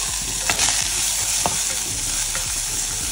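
Onion frying in oil with cumin seeds, a loud close hiss of sizzling with a couple of sharp stirring knocks on the pan.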